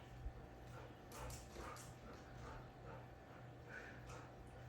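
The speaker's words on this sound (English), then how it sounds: "Told you something interesting to bark at out there." A big dog barks outside, faint and distant, with a few scattered yips and barks against quiet room noise and no talking.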